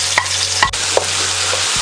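Ginger and onion sauté in a hot pan with a bright, steady sizzle and a few quick stirring clinks, loud and close, no voices.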